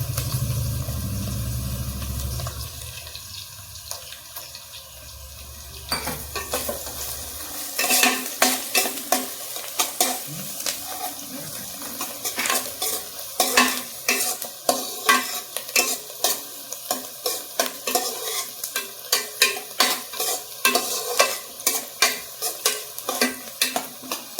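Onions frying and being stirred in a pan, with an opening stretch of low hum and then a continuous sizzle broken by rapid, repeated scrapes and clinks of a spatula against the pan, close and prominent, with no talking.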